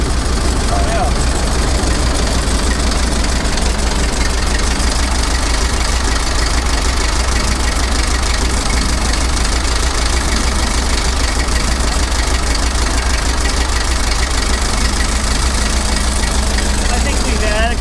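Engine of a 1915 Dodge Brothers touring car with a cone clutch idling steadily, a continuous loud rumble with people talking over it.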